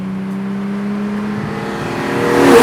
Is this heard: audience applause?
no